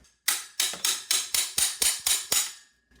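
A hammer strikes parts of an old abandoned Schwinn Impact bicycle during restoration: eight sharp metallic blows in a steady, fairly even rhythm, each ringing briefly before the next, close and moderately loud with no talking.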